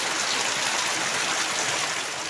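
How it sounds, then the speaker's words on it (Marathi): Heavy monsoon rain in Konkan pours down in a dense, steady roar, loud and unbroken throughout, with no voices. "बघा किती जोरदार पाऊस पडतो"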